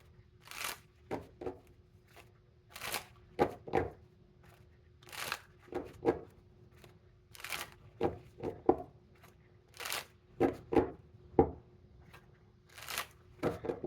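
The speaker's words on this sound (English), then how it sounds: "I have to shuffle side to side like this because my hands aren't big enough" Tarot cards are shuffled side to side in small hands, giving repeated soft riffling bursts in an irregular rhythm, close and fairly quiet with short pauses between them.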